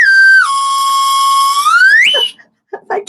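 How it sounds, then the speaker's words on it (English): A Chupa Chups Melody Pop candy whistle blown in a loud, shrill, sustained tone that dips, holds, then slides upward before cutting off, followed by a few faint sounds. "It's a whistle pop."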